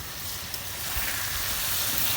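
Small river fish such as tengra, shrimp and puti frying with onion in a pan make a constant close, bright sizzle with a light crackle, steady and unbroken over a couple of seconds, no talking.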